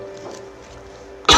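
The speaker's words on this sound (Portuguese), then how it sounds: "Desculpa, irmão, é inevitável tossir" A single sharp cough bursts out loud and close at the very end, after a quiet room tone.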